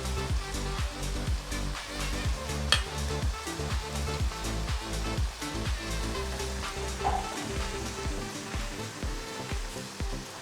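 Onions, garlic and potatoes sizzling steadily in a hot pan while braising chicken, with a continuous crackling fry and occasional stirring scrapes, fairly close.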